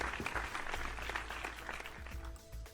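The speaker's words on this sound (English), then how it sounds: "Round of applause for Scandinavia." Steady applause from an audience, a crowd clapping continuously for a few seconds at moderate loudness.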